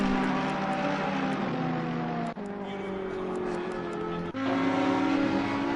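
Race cars at the Zolder circuit, including a Porsche working through the final chicane, with steady engine drones that shift pitch twice as cars change gear, heard at moderate distance.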